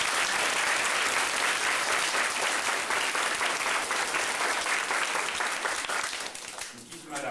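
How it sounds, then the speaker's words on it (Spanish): Audience applause at a book handover event in Ranchete, loud dense clapping filling the room steadily before thinning out near the end, with voices faintly mixed in. "Para ellos vamos a darle un aplauso"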